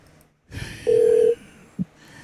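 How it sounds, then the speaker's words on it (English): A single steady electronic tone rings out for about half a second, followed by a short low blip, over faint background noise. "Can you hear the ringing?"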